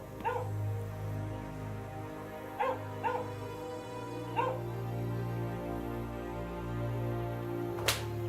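A dog in a war drama barks and whimpers several times, short yelps spaced apart over a low, steady background hum, ending with a sharper bark.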